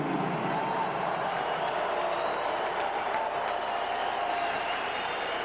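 Boxing arena crowd in the Twin Cities cheering and applauding a hometown St. Paul fighter at an IBF junior flyweight title bout, a dense steady roar of cheers and clapping filling the whole stretch.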